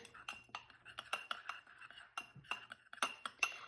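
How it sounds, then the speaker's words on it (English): Cumin and chili powder stirred together in a small glass or ceramic dish, a quick series of faint, close clinks and taps of a spoon against the bowl, with no talking. "So I'm going to combine the 2 together. Give that a nice little stir."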